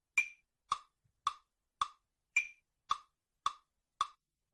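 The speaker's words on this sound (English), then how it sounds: "They adjust the volume for each beat's click. Typically, the first beat is loudest," Eight sharp metronome clicks at an even pace, the first and fifth pitched higher and louder, the others lower, with silence between.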